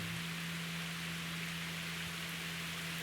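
Steady, even hiss of rain falling in the Altai Mountains, heard from under a tree, with a constant low hum running underneath throughout.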